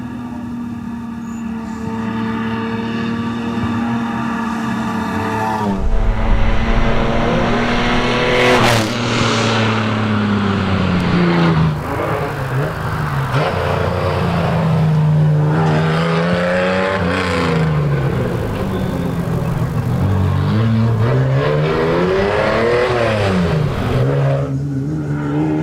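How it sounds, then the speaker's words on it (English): A Holden Torana race car at a hillclimb event, engine revving and surging loudly throughout as it climbs and shifts through gears, rising and falling pitch close by. "Mark Gain in the Holden Tirana."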